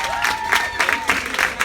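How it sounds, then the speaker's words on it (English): Scattered applause and some cheering from a crowd of married women in an audience answering a comedian's call, dense and fairly close, with a lingering tonal hum beneath. "Clap if you're married. Let me hear you."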